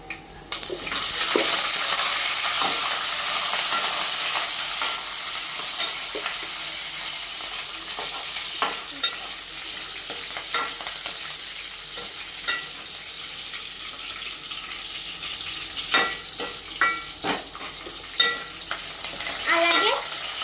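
Curry leaves hit hot oil in a pan and set off a loud, bright sizzle that holds steady. Intermittent scraping clicks of stirring sound over it, and no one speaks.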